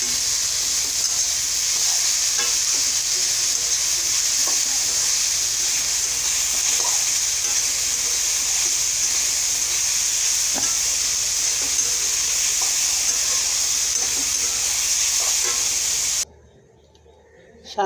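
Greens seasoned with turmeric fry and get stirred in a pan, giving a steady close sizzle and hiss with scraping stir sounds throughout, then cutting out abruptly near the end.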